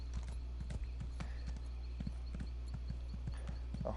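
Horse trotting in The Elder Scrolls Online, a steady clip-clop of hooves with a weighty feel, even and continuous at close range over a low steady hum.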